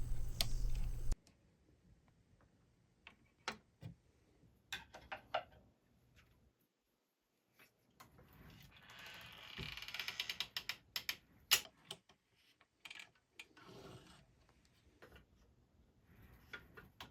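A template screw on a PantoRouter centering jig is tightened by hand, giving faint ratcheting ticks and small mechanical clicks, scattered and quiet with brief gaps between turns.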